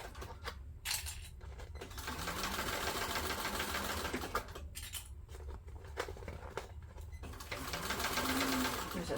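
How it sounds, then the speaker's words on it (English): A sewing machine stitches a backpack in bursts of rapid mechanical chatter with short pauses between runs, and a voice talks faintly in places. "Sew up one part till you get to the top, then sew through the other."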